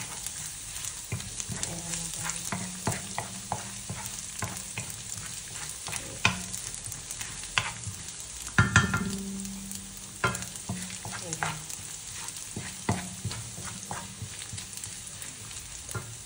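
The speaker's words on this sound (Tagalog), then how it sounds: "Ipo-brown natin ng konti para mas masarap yung bango." Garlic frying in hot oil for fried rice, a steady close sizzle with repeated stirring scrapes and clinks of a utensil in the pan, no talking.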